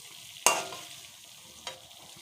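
Masala spices with turmeric fry in a pan for koi fish curry, a soft low sizzle broken by two sharp scraping stirs, the first louder, with no one speaking.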